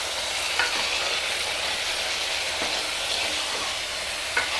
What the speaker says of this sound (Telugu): మొత్తం ఈ మసాలాలో వంకాయలు బాగా మగ్గనిద్దాం